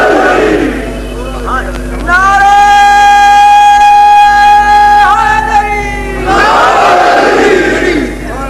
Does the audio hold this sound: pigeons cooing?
no